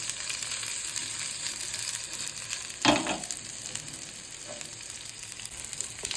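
Chopped onions fry for soupy noodles in a steady, close, broadband sizzle, with one louder clatter of stirring near the middle; no one speaks.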